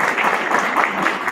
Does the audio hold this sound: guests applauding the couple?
yes